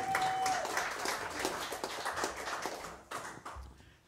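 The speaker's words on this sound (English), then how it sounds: "And one more big round of applause for Mike Sailors." An audience at Monks applauds a live jazz quintet, a loud burst of dense clapping that thins and fades toward the end.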